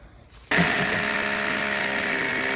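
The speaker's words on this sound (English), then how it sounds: "Alright, let's drill the holes for the rebar." A power drill bores holes into a concrete bench for rebar, starting abruptly after a moment of quiet and then running at a loud, steady whine close by.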